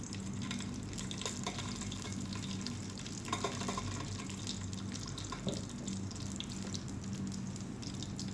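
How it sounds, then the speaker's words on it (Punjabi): Coriander and cumin roast in a hot pan with a steady sizzle and faint scraping stirs, close and continuous, with no talking. "ਆਪਾਂ ਇਹ ਐਡ ਕਰਾਂਗੇ ਧਨੀਆ ਤੇ ਜੀਰਾ ਸਭ ਨੂੰ ਚੰਗੀ ਤਰ੍ਹਾਂ ਭੁੰਨਾਂਗੇ"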